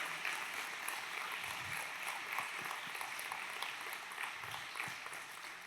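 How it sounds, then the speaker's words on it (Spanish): Church congregation applauding together during a Spanish-language sermon, a steady dense wash of clapping heard from a distance, continuous throughout. "Él se merece un aplauso grande."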